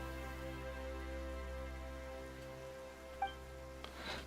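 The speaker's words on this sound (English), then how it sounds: "The rain becomes heavier. Light rain soon growing into a downpour." A steady, faint rain downpour in the video game Genshin Impact hisses continuously, with a low rumble beneath and a couple of small clicks near the end.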